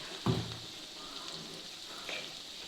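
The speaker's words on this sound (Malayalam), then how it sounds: "അത്രയും ഇതൊന്ന് വഴച്ചെടുക്കുക." Chili powder and spices sauté in a pan for a prawn curry, giving a soft, low sizzle with a brief clatter near the start and a faint stir later.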